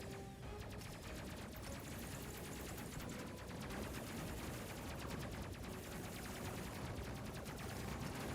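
Rapid bursts of video game gunfire in Space Crew as the crew shoots alien boarders on their ship, a dense, continuous rattle of shots with crashes running at steady loudness throughout.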